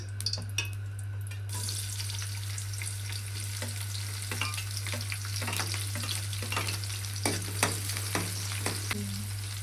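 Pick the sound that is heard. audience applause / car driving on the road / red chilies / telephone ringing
red chilies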